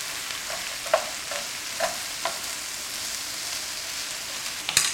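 Onions caramelizing in a frying pan for onion soup. A soft, steady sizzle runs throughout, with a few light stirring taps and a sharper clatter near the end, close by and with no voices.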